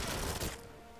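A gun in the spy shooter game 007 Legends fires a quick burst of dense shots for about half a second, close and loud, then fades to a low tail.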